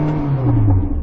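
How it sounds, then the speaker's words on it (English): Porsche 918 Spyder engine revving up close, a loud sustained low growl with steady harmonics rising slightly over about a second. "So I'm going to rev up my Porsche."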